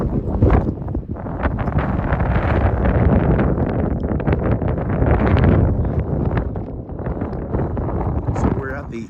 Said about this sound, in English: Really crazy wind up here.